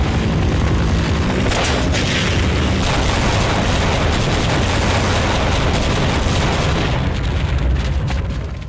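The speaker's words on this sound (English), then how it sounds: "This is the rocket launcher" A rocket launcher in Half-Life fires and its rockets explode in a sustained loud barrage of booming blasts that fills the whole stretch, with no one speaking.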